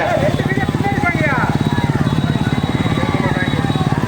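Motorcycle engines putter with a fast, steady pulsing throb, close by and fairly loud, while a voice talks over them, at a rekla cart race in Therku Kalmedu, Thoothukudi.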